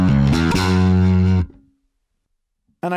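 A bass guitar played through an EBS Fafner II amp on its distortion channel gives a loud, gritty run of notes for about a second and a half, cuts to silence, then starts again briefly.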